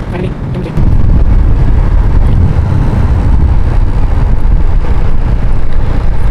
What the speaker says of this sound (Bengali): এখনো যাচ্ছে বাইক।